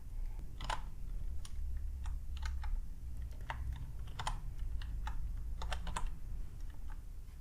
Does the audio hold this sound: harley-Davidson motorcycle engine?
no